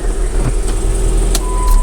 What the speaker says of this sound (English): Go ahead and put the key in, see if it starts. Vehicle cranked up, awesome.